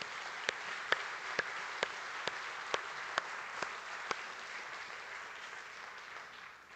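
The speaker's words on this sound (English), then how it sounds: "Can we give another standing round of applause to Madam Schultz?" Standing audience at a policy showcase event giving a round of applause, a fairly faint, steady wash of many hands clapping with a few sharper individual claps punctuating it at regular intervals.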